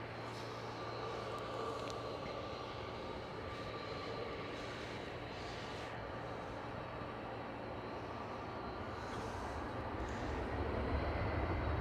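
A KLM Cityhopper Embraer E190 jet passing by at Amsterdam Schiphol, a continuous engine rumble and whine staying fairly even with a slight swell toward the end, no talking.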